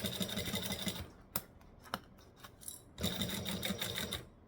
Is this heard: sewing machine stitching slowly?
yes